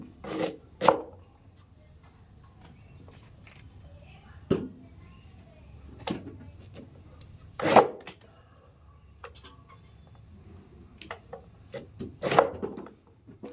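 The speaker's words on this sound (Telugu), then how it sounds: "ఫస్ట్ అయితే ఇలాగా 4 ముక్కల కింద కట్ చేస్తారు కాయని" Raw mango being cut into four pieces on a board for Andhra avakaya pickle, a handful of separate sharp knife chops spaced a few seconds apart, close and fairly loud, with quiet scraping between them.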